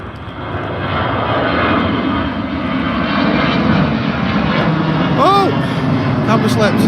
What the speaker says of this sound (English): we've got the EasyJet on the roll now. This is the mighty orange. It sounds like an Airbus